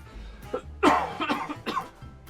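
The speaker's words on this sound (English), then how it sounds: "apologies if you hear me coughing a lot this episode" A person coughs several times in a short burst, each cough sharp and close, with a brief throat-clearing quality between them.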